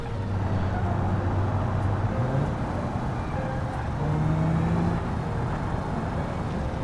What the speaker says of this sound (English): driving a minivan through a forest